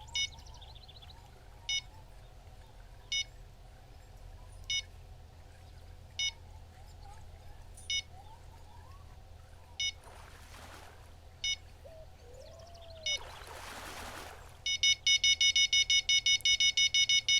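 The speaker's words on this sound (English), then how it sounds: "let's stop this incessant beeping" A fishing bite alarm on the Tiber River: sharp electronic beeps repeat at steady intervals, then speed into a rapid continuous run at the end, over faint outdoor background with a couple of splashy bursts.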